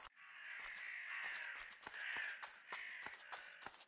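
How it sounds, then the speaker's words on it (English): Crows caw repeatedly in the woods, a series of harsh calls over a steady outdoor hiss, moderately distant, with no talking. "I hear the crows."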